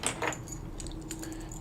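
Two keys for a Corbin Russwin master ring cylinder lock jangle briefly up close. A bright metallic clink comes at the start, followed by faint scattered ticks against a quiet background.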